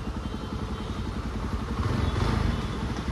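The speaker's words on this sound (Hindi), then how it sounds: "यस आवाज़ भी अच्छी है बाइक की" A 2024 Jawa 42 Bobber motorcycle engine running nearby, a steady throaty rumble with a slight swell in loudness toward the end, heard alone without talk.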